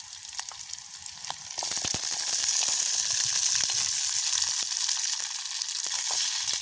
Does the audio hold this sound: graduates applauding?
no